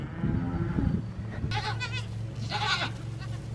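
A herd of goats in a farm barn lets out two clear, close bleats, one after the other, over a low background hum.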